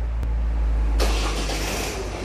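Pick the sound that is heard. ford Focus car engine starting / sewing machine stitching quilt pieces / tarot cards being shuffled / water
ford Focus car engine starting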